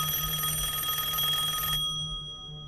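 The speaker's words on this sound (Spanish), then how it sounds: "Eso fue hasta que recibí una llamada telefónica." A telephone bell rings in a steady, continuous electronic trill, loud and close, then cuts off abruptly, leaving a low hum.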